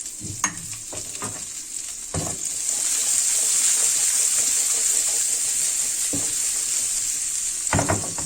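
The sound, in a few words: onions sautéing on the grill pan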